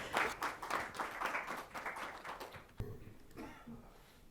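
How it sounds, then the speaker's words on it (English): An audience applauds after a former director of Talcher Fertilizer Limited is welcomed at a Viksit Bharat session, with dense clapping for about three seconds before fading into quieter room sound. "Please welcome him with a big round of applause"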